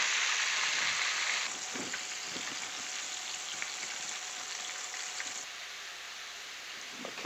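Chicken pieces fry in hot oil in a cast iron pot, giving a steady bright sizzle that starts loud and settles to a softer, even crackle with small pops.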